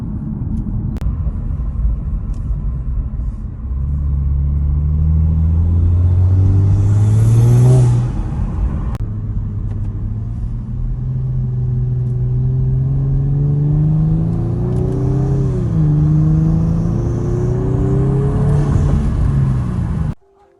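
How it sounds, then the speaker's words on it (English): A modified Kia Stinger GT with an AEM intake accelerates hard. The engine drone rises through pulls, with rising turbo whine and whooshing spool, loud and close from inside the car. No voices. "All you can hear is constant turbo noises every pull."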